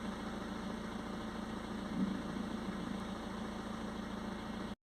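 A diesel car engine idles steadily up close, a continuous low rumble with a faint mechanical knock, running alone for about five seconds before cutting off abruptly.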